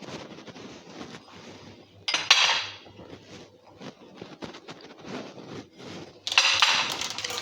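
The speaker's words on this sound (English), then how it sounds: "We're going to start by sifting the flour and the baking powder." Close metallic clinking and scraping of a sieve as flour and baking powder are sifted into a bowl for blueberry muffins, with two louder rattling bursts among soft taps.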